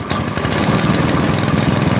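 A chainsaw engine idles while warming up, a loud, close, steady rough putter with no revving.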